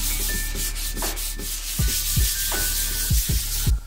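A wooden bicycle box is hand-sanded with 320-grit sandpaper: a steady, close rubbing scratch broken by quick, separate strokes and small knocks, with no talk.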